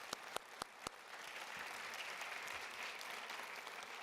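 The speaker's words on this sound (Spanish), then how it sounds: "Un aplauso fuerte a nuestro buen Dios." Congregation applause at an Easter Sunday church service begins with four crisp, separate claps up close, then blends into a soft, steady crowd clapping that continues to the end.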